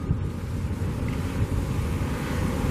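Steady wind buffeting a microphone at the Allegiant Stadium construction site in Las Vegas, a continuous low rumbling roar that stays loud and even throughout, with no voices.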